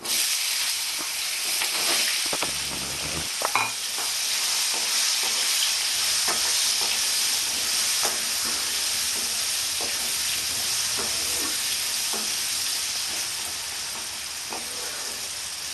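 Potatoes fry in hot oil with turmeric and nigella seeds for a Bengali kochur loti chingri dish, giving a steady close sizzle with scattered scraping stirs and no voices.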